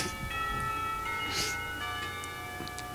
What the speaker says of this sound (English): The clock tower bells ring, signaling the end of a period.